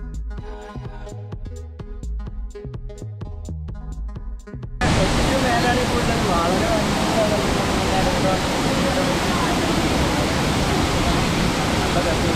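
Roaring water of the Ezharakundu Waterfalls in Kannur, heard from the top of the falls; a dense, steady rush bursts in loud and close after a few seconds of music.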